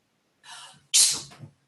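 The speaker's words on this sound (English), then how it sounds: "Oh, sorry, I sneezed." A single sharp sneeze, preceded by a short breathy intake, close and clear against silence.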